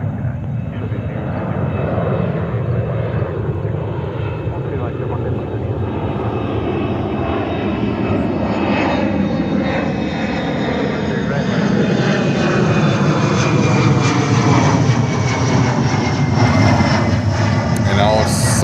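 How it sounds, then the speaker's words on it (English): Saudia Boeing 777-300 jet taking off at JFK airport in New York, a loud continuous engine roar that builds and rises in pitch as it climbs, heard from a distance. "And our Saudia 777-300 coming up. And take off."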